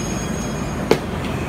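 A tram rolls along street rails in Ōita, a continuous low rumble of wheels with one short click or clunk partway through. No one speaks.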